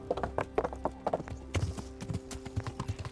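A horse clip-clops through a video game in a quick, even trot, the hoofbeats fairly quiet and close, with faint background game sounds and no talking.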